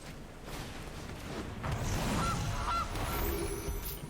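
A video game goose honks a couple of times over a whooshing, rumbling background, brief and clear.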